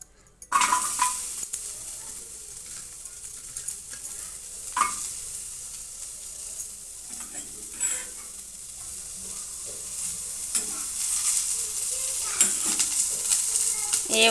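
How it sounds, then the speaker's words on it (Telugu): Onion pieces frying in plenty of oil in a pan for a Rayalaseema bendakaya karam, a steady close sizzle with scraping stirs and occasional utensil clinks throughout. "మళ్ళీ ఉల్లిపాయ ముక్కలు వేపుకుందామండి."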